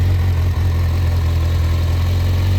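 A 2017 Kawasaki Versys 1000 motorcycle idling through an aftermarket Krapowicz exhaust fitted with a dB killer, a steady, even low hum close by, with no one speaking.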